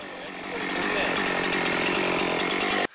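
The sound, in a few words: repaired chainsaw running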